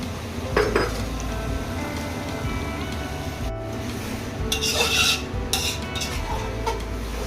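Semolina is roasted in ghee in a pan, giving steady close scraping and rasping as it is stirred, with a few brief clinks against the metal and no talk.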